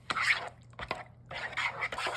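Milk being stirred into an enchilada sauce mixture for creamy chicken enchiladas, with two bursts of wet stirring and dripping, close and moderately loud, separated by a brief quieter pause.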